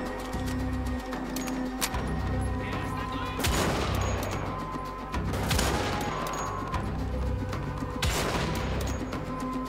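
Gunfire in the Wolfenstein: The Old Blood video game: three loud bursts of shots crack out at intervals over a steady background hum of game ambience.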